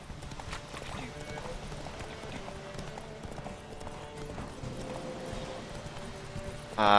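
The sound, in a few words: horse galloping in the video game The Witcher 3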